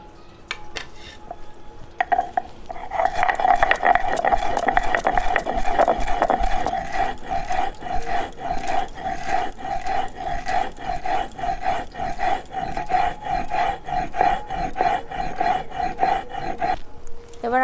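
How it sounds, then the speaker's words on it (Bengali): Cumin and coriander ground on a grinding stone in a home kitchen: a steady run of rhythmic, rasping back-and-forth strokes, close and fairly loud, continuing for about fifteen seconds with no talking. "জিরে আর ধনেটা বেটে নেব।"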